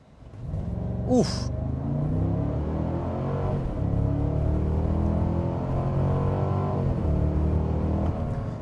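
Cabin drone of a 2025 Cadillac Escalade Platinum with its naturally aspirated V8 building steadily through a 0-60 run, a low continuous rumble, with a brief voiced exclamation near the start.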